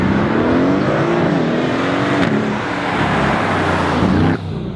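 A Mercedes-AMG GLC 63 S Coupe's V8 engine and exhaust roar loudly and close, the engine note rising and falling through revs before cutting off sharply near the end.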